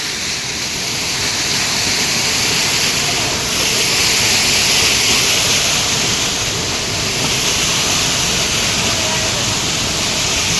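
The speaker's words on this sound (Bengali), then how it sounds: "এখানে কিন্তু জল বেশ ভালো জোরেই পড়ছে, জলের ফোর্স প্রচুর রয়েছে" A powerful waterfall on the Kedarnath trek sends water crashing down with great force, making a loud, steady, broadband roar that fills the whole scene without a break.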